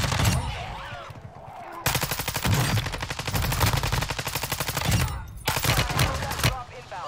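Heavy, sustained gunfire in the video game Warzone Zombie Royale: loud rapid automatic bursts nearly continuous across the clip with brief breaks, and faint voices underneath.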